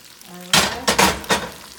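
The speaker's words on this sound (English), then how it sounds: "So then you just throw the pasta in." Already-cooked pasta dropped into a pan of hot oil with plenty of anchovy, hissing and sizzling in three or four loud bursts as it is tossed, close by with no talking.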